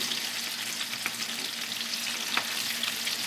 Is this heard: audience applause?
no